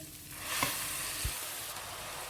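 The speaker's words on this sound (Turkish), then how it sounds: "Güzelce kavuruyorum." Rice sautéed in a pan for a tomato-sauced pilaf with meatballs, giving a steady, close broadband sizzle with a few soft stirring scrapes, no voices.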